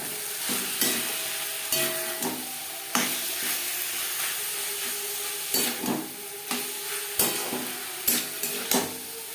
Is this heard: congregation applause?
no